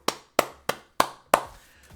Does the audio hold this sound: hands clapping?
yes